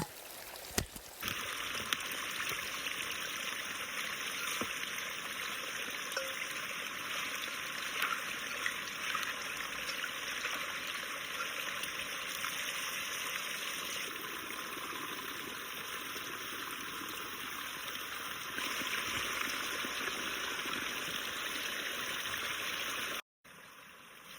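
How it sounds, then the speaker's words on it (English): Cold spring water runs out of a mountain source at its outlet, a steady close hiss of flowing water that continues unbroken, with brief knocks at the start and a sudden cutoff near the end. "Cold, clear spring water coming out of the mountain right at the source."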